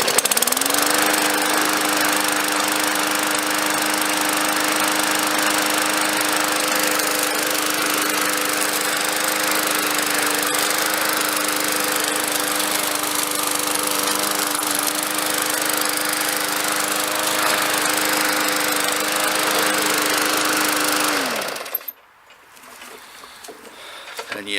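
A lawn mower engine runs loud and steady for about twenty seconds with a constant droning hum, then cuts off abruptly, leaving near silence.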